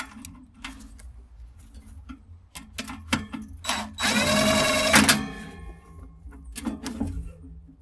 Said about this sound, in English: let's get this power cord removed here